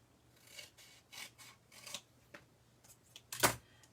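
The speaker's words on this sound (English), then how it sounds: "Oh, I need my heavy-duty scissors." Heavy-duty scissors trimming card stock for a slimline card, a series of crisp snipping cuts in uneven rhythm, close and quiet, ending in one sharp louder snip.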